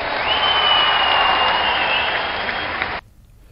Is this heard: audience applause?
yes